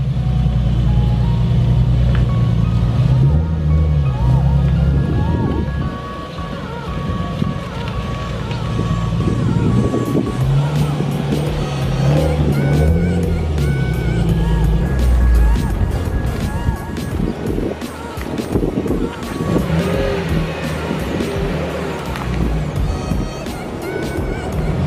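A Nissan 350Z fitted with BC Racing BR coilovers drives along, its engine droning with shifting revs and road rumble throughout, while a person talks over it at times.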